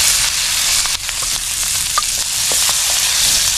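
Garlic and onion sautéing in a little oil in a pan, a loud, steady crackling sizzle up close with a few stirring scrapes, no voices.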